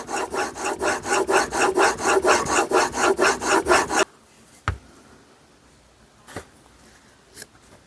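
Steel blade stroked back and forth on a 300 grit sharpening stone in a Trend honing guide, a steady rhythmic rasp of about fifteen close strokes for four seconds, then near silence with a few faint clicks and taps.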